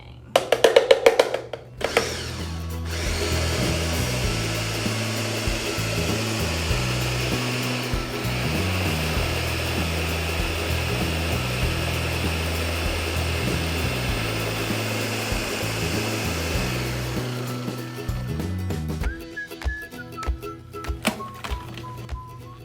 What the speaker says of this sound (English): put it down in the blender a little bit before you start mixing